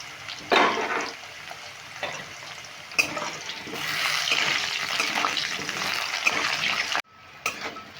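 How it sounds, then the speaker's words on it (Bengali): Potatoes frying in oil in a covered pan, a continuous sizzle that rises and falls, with a sharp clatter near the start, a clunk in the middle and a sudden drop near the end as the lid comes off. "এবার ঢাকা দিয়ে আমি একটু ভালো করে ভেজে নেব"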